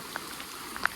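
Rain falls outdoors as a steady, dense hiss, and a few louder single drops patter close by during a walk in the downpour.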